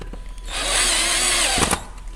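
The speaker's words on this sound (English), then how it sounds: "you want to put the screws in from the top" A power drill drives screws into a metal bracket with threaded holes, giving one loud steady whir of about a second that cuts off abruptly, followed by brief clicks.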